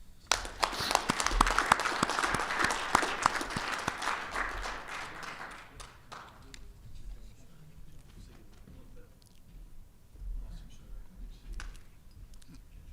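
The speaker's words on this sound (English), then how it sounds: "Ladies and gentlemen, please join me in a round of applause" Audience applause at a Marine Corps logistics awards ceremony, a dense roar of many hands clapping for about six seconds before thinning to a few scattered claps and murmurs.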